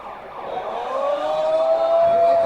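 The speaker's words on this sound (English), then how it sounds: "Those sirens?" A siren wails at a wrestling show as an entrance begins, one rising tone that holds steady and swells in loudness, with crowd murmur underneath.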